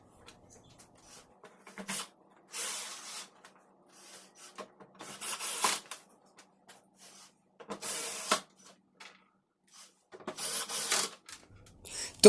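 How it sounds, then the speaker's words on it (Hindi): An electric screwdriver drives screws one by one into the back cover of an LG 32 inch LCD TV: several short whirring bursts separated by quiet pauses, close and fairly faint. "तो स्क्रू को लगाएंगे हम इलेक्ट्रिक स्क्रू ड्राइवर के माध्यम से, एक एक करके सभी स्क्रू को लगाते हैं।"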